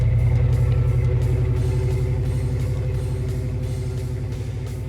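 A 1995 Chevrolet Tahoe with a 2-inch lift and 35-inch tires cruising up a dirt road, a loud, steady low engine rumble from inside the cab with faint rhythmic bumps, no talking.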